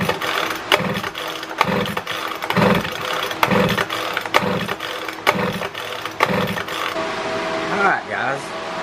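A 2-cycle string trimmer engine is pull-started by its rope, giving a run of rhythmic, repeated mechanical tugs and brief firing bursts close by, roughly once a second, fading into a quieter rattle near the end.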